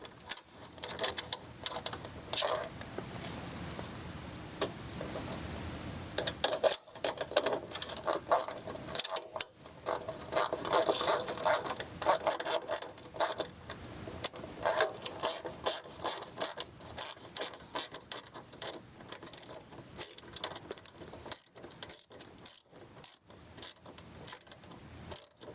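Screw being driven through both layers of a fender and liner on a 2019+ Ram 3500 dually while fitting Rokblokz step back mud flaps; close, busy mechanical clicking and ratcheting bursts, loud and uneven over about 25 seconds, with no talk.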